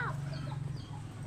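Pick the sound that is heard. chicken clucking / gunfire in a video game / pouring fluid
chicken clucking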